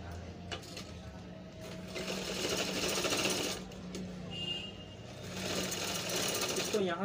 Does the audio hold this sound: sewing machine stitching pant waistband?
yes